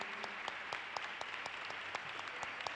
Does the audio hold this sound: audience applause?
yes